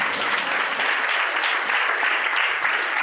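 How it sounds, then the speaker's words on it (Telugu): A church congregation applauds during a sermon with dense, steady clapping that fills the whole stretch evenly and loudly, with no voices standing out. "దేవునికి చప్పట్లు కొడదాం"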